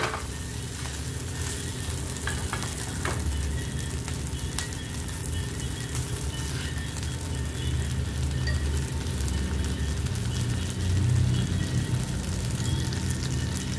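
Halved pav bread rolls roasting on a hot pan for pav bhaji, a steady close crackling sizzle with scattered sharp pops throughout.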